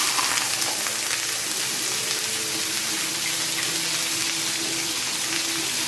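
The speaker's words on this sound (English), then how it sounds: "in order to make a pot roast, the first thing you've got to do is you've got to sear the meat" Meat sears in a pot for pot roast, giving a steady, hissing sizzle with faint crackles throughout, moderately loud and close, no voices.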